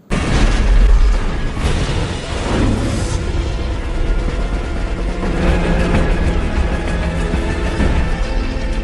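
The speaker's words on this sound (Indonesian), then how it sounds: "menjatuhkan beberapa tong barel yang berisikan bubuk misiu disusul obor api agar meledak" Barrels of gunpowder, lit by a torch, explode in a castle battle scene. A loud boom bursts out at the start, then a long, heavy roar of blasts and debris rumbles on without a break.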